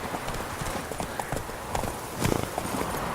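Horse hooves clip-clopping at a gallop in The Witcher 3, a steady rapid patter at moderate loudness with a brief louder flurry of hoofbeats near the end.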